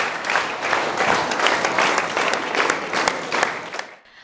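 Audience at a Hindi-language exam seminar applauds steadily to welcome a woman guest, dense clapping from many hands sustained for about four seconds before stopping abruptly.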